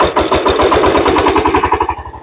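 A power tiller engine runs steadily and loudly, its rapid rhythmic chugging close by and filling the whole clip, tapering slightly toward the end with no talk over it.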